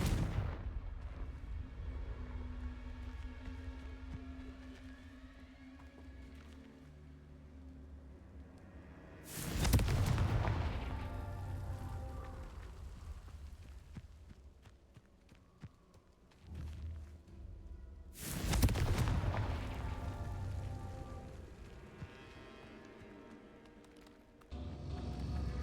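Two heavy, booming blasts from Confringo spell explosions in the video game Hogwarts Legacy, each a sharp loud burst with a rumbling decay, spaced apart over a low background hum.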